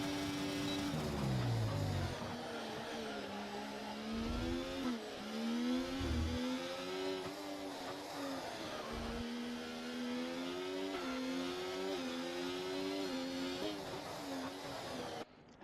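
A racing car in a video game revs hard on a corner exit, its engine note climbing and dropping through repeated rising whines, loud and close, with brief tyre scrubs and no talking.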